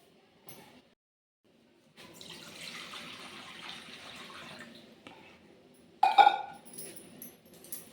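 Water runs from a tap in a village home while someone rinses their mouth, a soft steady stream for a few seconds followed by a brief louder splash near the end, with no talking.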